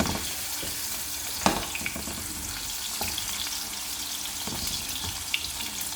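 Cabbage stir-frying after being tossed into a hot pan on a home stove: a loud, steady broadband sizzle with occasional sharp pops and scrapes, close up and without talking.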